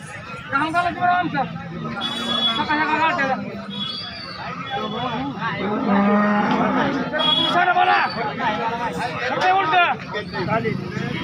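Cattle lowing and mooing repeatedly over the busy Sangola livestock market, with people chattering nearby throughout.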